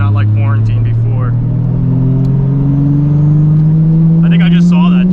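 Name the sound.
800+ hp Toyota Supra MK4 engine while driving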